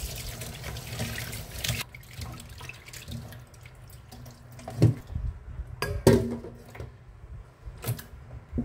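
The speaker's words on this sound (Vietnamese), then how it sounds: "Rửa lại cho sạch." Tap water runs and splashes into a sink while pork intestines are rinsed, a steady close wash with louder gushes and splashy bursts near the end.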